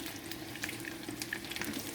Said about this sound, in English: This makes a lot of mess because it's frying and the oil is popping up.